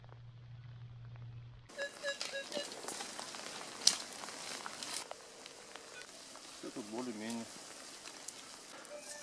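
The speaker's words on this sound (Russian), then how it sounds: "Дождь сыпет." Steady rain patters down outdoors near a river where beavers have gnawed trees, a soft continuous hiss with scattered drops, preceded by a brief low hum and joined by occasional faint rustles.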